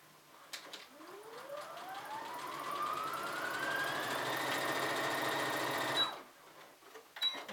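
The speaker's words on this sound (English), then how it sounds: "I have just some lightweight denim here, and you can just sew right through it." A Brother Simplicity SB3129 computerized sewing machine stitches through lightweight denim, its motor whine rising steadily in pitch as it speeds up, then holding a fast, even hum for several seconds before stopping abruptly.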